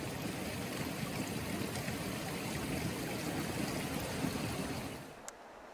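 A small salmon stream runs about seven tenths of a mile from saltwater beside a partially blocking culvert, its steady broadband rush filling the scene until it drops away sharply near the end.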